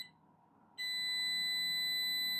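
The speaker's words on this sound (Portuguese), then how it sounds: "agora eu vou passar para a função de diodo e do bipzinho, né? Ele já entra direto no bip." A digital multimeter switched to its diode and continuity setting gives a steady, loud, high electronic beep that starts abruptly about a third of the way in and holds unbroken to the end, after a short stretch of low background hum.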